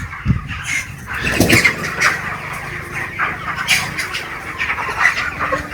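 Broiler chickens cluck and squawk in a busy flock on a chicken farm, with irregular overlapping calls close by against a noisy farm background.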